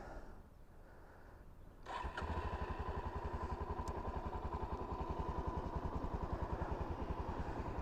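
A Suzuki DRZ motorcycle engine cranks over and catches, then settles into a steady, loud, close-up idle with an even thumping pulse.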